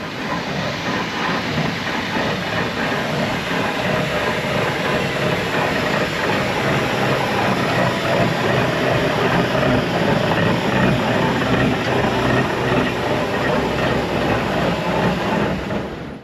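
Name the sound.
Aveling steam road locomotive traction engine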